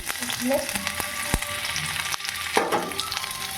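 Chopped vegetables such as ridge gourd, cauliflower, potato and tomato fry in a pan, a steady close sizzle broken by a few stirring clinks and scrapes.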